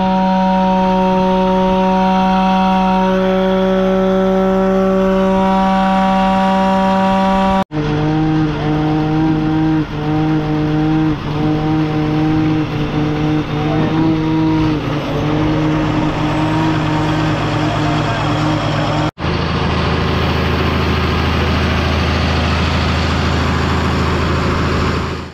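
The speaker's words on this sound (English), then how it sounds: "and then we kick the pump on" A river irrigation pump, primed and then kicked on, runs loud and steady with a droning, engine-like hum and strong sustained tones, heard up close without any talk.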